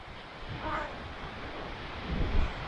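Wind-blown surf on a beach on the Tuscan riviera during light rain, a steady broadband wash with faint low swells of breaking water and gusty rumble against the microphone.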